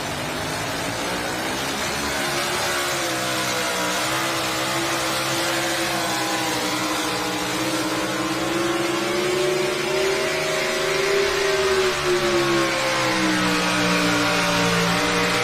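A drag racing car's engine roars loudly and continuously through a pass at high RPM, its pitch wavering and climbing as it revs, heard at a distance across the strip without talk.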